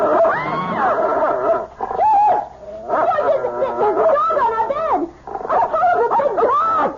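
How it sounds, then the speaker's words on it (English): A dog barks and whimpers in a 1974 radio mystery drama, loud and close, with a run of yelps and whines across the whole stretch. "It's only a dog, for Pete's sake. He's not going to hurt you."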